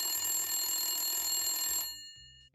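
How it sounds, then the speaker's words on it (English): A telephone bell rings in a steady, bright, continuous trill, close and clear, then cuts off abruptly after about two seconds, leaving near silence. "das Telefon klingelt."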